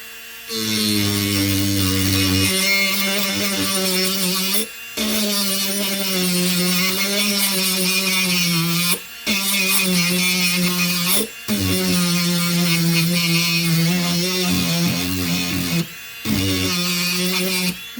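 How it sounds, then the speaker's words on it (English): A Powerworks rotary tool with a sanding drum whines steadily in long, loud bursts, its pitch shifting as it grinds paint off a metal wrench, with brief pauses between passes. "let's use the sanding drum, take a little paint off of the wrench that's included"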